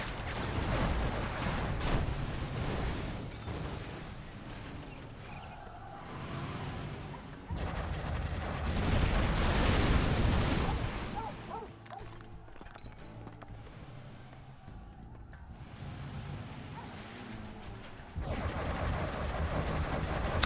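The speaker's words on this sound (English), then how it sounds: "Another buggy barrage from Marakar." Buggy barrage gunfire rattles in dense, continuous bursts during a World Series 2023 quarter final strategy game match, a busy, moderately loud battle din of layered shots that surges and eases repeatedly.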